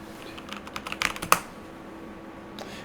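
Quick, light keystrokes on a computer keyboard spell out a short search term, a cluster of taps with a sharper final press, then one faint tap after a pause in a quiet room.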